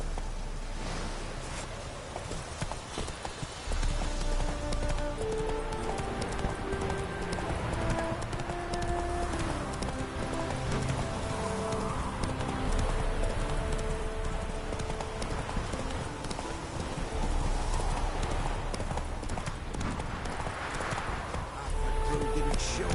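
Horse hooves clip-clop in The Witcher 3 video game, a steady, rhythmic trot of the rider's horse heard clearly over game music and ambience for the whole stretch, without talking.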